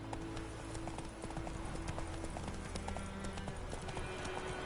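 Hooves of Roach, the horse in The Witcher 3, pound in a fast steady galloping rhythm, a continuous clip-clop at close range over a low ambient bed.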